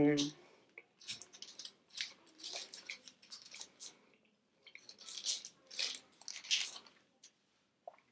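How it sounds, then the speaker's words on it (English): Close, moist chewing of a bite of granola bar, with repeated crunchy, squishy bursts in an uneven rhythm, some quieter pauses between chews. "take my granola bar and open it up. Pull the wrapper down and take a bite of my snack"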